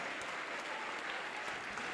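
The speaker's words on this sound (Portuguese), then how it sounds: "Vamos aplaudir mais, igreja." A church congregation applauds with dense, sustained clapping from many hands, a steady even wash of sound with no pauses.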